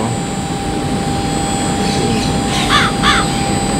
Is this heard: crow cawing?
yes